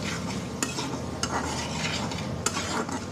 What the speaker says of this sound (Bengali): আমরা বলি পেটা কষিয়ে নেব